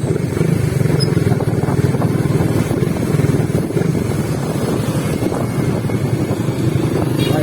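A motorcycle rides through floodwater on a flooded road in Bongabong, its engine a steady loud drone mixed with wind buffeting the microphone and sloshing water.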